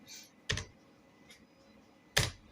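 Two crisp keystrokes on a computer keyboard, the Enter key pressed twice about a second and a half apart, close and clear over a quiet room hum with a faint click between them.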